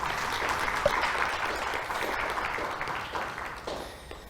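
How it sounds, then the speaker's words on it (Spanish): A room full of people applauds warmly, a dense burst of clapping that gradually thins and fades over a few seconds. "vamos a darle un aplauso de bienvenida"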